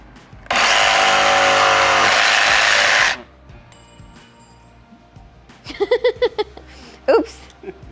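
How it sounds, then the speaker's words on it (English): A jigsaw cutting curved corners in wood gives a loud, harsh buzz for about two and a half seconds, then stops abruptly; afterward people talk and laugh over quieter handling noises. "So I'm going to use the jigsaw and curve any sharp corners"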